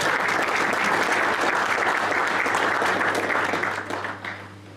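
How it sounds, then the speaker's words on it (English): Sustained crowd applause at the 2020-2021 Central Gauteng Lions Annual Awards, a dense steady clapping from a large audience that continues for several seconds and then tapers off. "A round of applause for the season that was."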